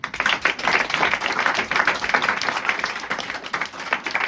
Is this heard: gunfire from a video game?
no